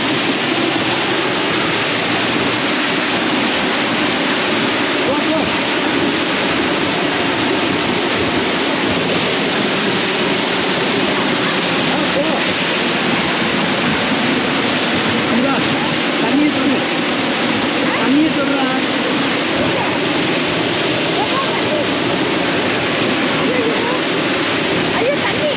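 A 1,300-foot waterfall in Switzerland roars as a steady, dense rush of falling water across the whole stretch, loud and close, with voices faintly mixed into the constant wash.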